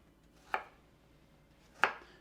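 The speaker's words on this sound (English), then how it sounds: "we're just going to cube our potatoes" A knife cubing potatoes for clam chowder strikes a cutting board twice, each a crisp, close chop about a second apart, over a quiet background.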